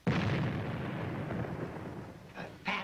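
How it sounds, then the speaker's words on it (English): An explosion from a 1935 film opens with a loud, dull blast that rumbles and fades over about two seconds, followed by a smaller burst near the end. "if the explosion failed to disturb him"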